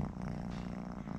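A kitten purrs in a low, continuous rumbling drone, close and steady throughout with no pauses and no voices.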